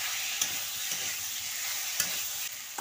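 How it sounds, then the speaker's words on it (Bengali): Spice masala being stirred and fried slowly over low heat in a pan for a cauliflower and potato curry: a continuous bright sizzle with a few soft scraping stirs of a spoon. "মশলাটা যাতে না পুড়ে যায়, আঁচ কমিয়ে আস্তে আস্তে করে কষতে হবে"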